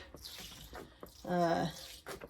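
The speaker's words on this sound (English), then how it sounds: "We're going to water thoroughly." Water poured onto soil in multisown flower seed trays splashes and trickles in short bursts, with a voice speaking briefly over it partway through.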